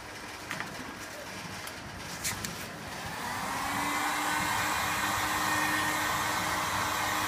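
A heat gun blows hot air over 0.5 mm PVC protection tape with 3M adhesive, a steady close roar that starts softer and grows louder and fuller partway through, with no speech.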